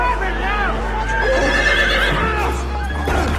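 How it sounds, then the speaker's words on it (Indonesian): A horse whinnies loudly and clearly over about three seconds, with a voice speaking underneath and a steady low hum throughout. "Tanpa diketahui Jack, Abel pun kabur dengan membawa kuda Jack."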